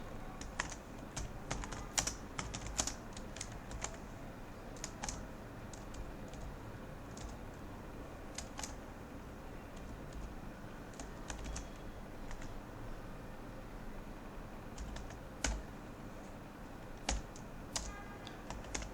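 C++ code being typed on a computer keyboard, a steady stream of soft, close key clicks in irregular bursts with a few sharper taps, quiet and alone without talk.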